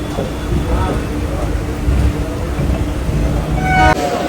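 A crowded local train near Sealdah, bound for Naihati, gives a continuous rumbling and rattling of moving carriages, close and fairly loud, with voices murmuring in the background.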